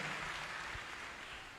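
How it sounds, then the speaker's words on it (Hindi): A church congregation claps in praise during a service, a brief wash of applause that fades slightly toward the end. "जोरदार तालियां बजाइए खुदा के जलाल के लिए। जोरदार तालियां।"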